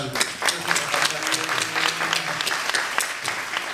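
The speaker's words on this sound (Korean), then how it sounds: "그분들을 위해 다 같이 박수 한 번만." An audience at a musical stage greeting breaks into steady, sustained applause for the band, many hands clapping at once in a full room.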